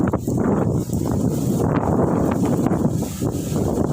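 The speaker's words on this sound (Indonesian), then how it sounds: "Anginnya datang, Bro. Angin datang." Strong gusting wind roars outdoors near a fishing coast, buffeting the microphone with a loud, continuous rumble that swells and eases in waves, heard alone.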